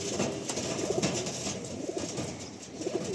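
Pigeons kept in a loft coo softly in repeated short, throaty phrases, several birds at moderate distance over a faint steady background hiss.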